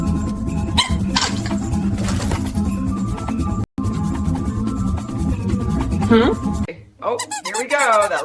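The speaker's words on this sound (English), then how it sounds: "Oh no, buddy, don't squeak it again." A dog squeaks a toy ball, giving repeated high squeaks over a busy background of music and talk, with a voice speaking near the end.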